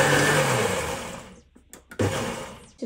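A blender pureeing cooked sweet potato, aubergine and zucchini, whirring loudly, cutting off briefly, then starting up again.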